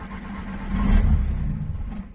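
A 2004 Volkswagen Caddy engine cranks and catches briefly, swelling into a low rumble before it sags and dies away over about two seconds, close and alone.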